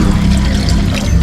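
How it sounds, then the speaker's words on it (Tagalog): Water pouring into a cooking pot, a close, continuous splashing gush that keeps a steady level from start to finish. "Lagyan na natin ng tubig."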